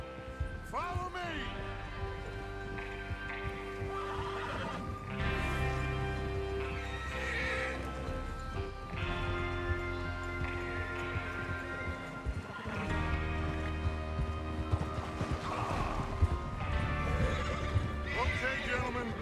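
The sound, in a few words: horses neighing and galloping in video game Red Dead Redemption 2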